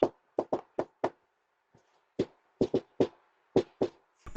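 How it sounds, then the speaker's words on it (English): Knuckles rap on the front door of a house late at night in St. Paul, Minnesota: a quick run of five knocks, a faint tap, then two more clustered bursts of sharp, close raps with quiet gaps between. "knocks on the door."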